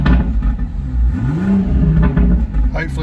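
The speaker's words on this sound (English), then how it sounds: "hopefully on the mic it's picking up that pops and burbles that you get" BMW 440i M Sport Convertible revved in Sport Plus mode, its performance exhaust giving loud close revs with a rising engine note and popping burbles, while a person talks over it.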